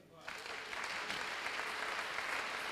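A church congregation breaking into applause that swells quickly and holds as a steady wash of clapping, heard from within the hall at moderate distance.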